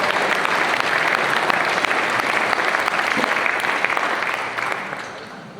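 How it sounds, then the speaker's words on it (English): An audience at a ham radio presentation in Friedrichshafen gives loud, close, continuous applause that holds steady before tapering slightly at the end, with no speech over it. "Applause."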